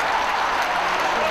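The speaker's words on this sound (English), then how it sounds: "That's a nice round of applause for that." Brief burst of audience applause at a comedy show, steady dense clapping at moderate loudness throughout.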